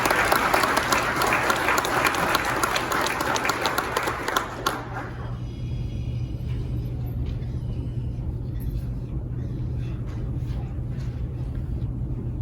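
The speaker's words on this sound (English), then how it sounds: "A round of applause for Corporal Rary." Crowd applause for a corporal at a county sheriff's department promotion and awards ceremony, loud sustained clapping from many people for about five seconds, then fading into a quiet room hum with scattered faint sounds.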